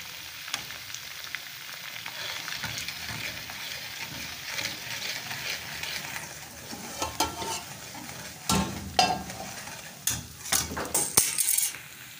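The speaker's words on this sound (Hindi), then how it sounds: "इनको हम कुछ देर के लिए फ्राई करेंगे।" Steady sizzle of a tempering for saag frying in a pan, with occasional scraping and clinks of a utensil stirring, close up and without speech.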